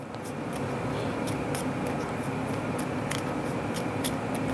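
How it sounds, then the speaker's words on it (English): A deck of playing cards is shuffled during a Legendary Encounters: Alien card game, giving a run of quick crisp riffling clicks over a steady hiss, close and moderately loud. "I'm out of cards, so I have to shuffle and draw my next six."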